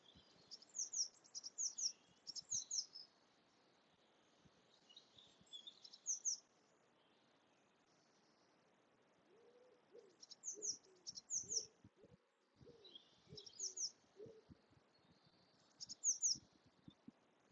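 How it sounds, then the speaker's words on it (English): Small birds singing outdoors in short bursts of high chirping and trills, fairly faint and distant, with quiet gaps between phrases and a low outdoor background. "sounds of the birds."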